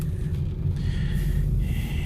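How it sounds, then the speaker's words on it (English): Heavy rain and wind ahead of an approaching hurricane make a continuous low rumbling wash with a faint higher hiss, steady throughout with no voices. "You may hear a bunch of rain in the background."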